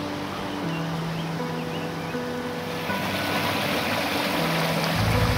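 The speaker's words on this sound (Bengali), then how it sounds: "ভোরের শান্ত পরিবেশে ঝর্ণার জলের আওয়াজ চারিদিকে ছড়িয়ে পড়ছে।" Mountain stream water rushes over rocks near a riverbank in the Himalayan foothills at dawn, a steady close hiss and gurgle filling the scene alone, with faint tonal hums running underneath.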